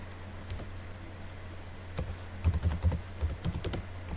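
Laptop keyboard typing, a few isolated key taps early on followed by a quick burst of clicks and an Enter press, close and fairly quiet over a low steady hum.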